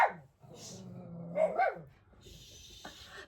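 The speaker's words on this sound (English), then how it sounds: "We need to quiet the dogs down." Dogs bark and yip at home, a few sharp barks and whimpers close by, with people talking over them.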